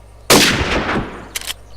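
A single loud, sharp gunshot in the video game Unturned with a long, roaring tail, followed by a couple of fainter clicks.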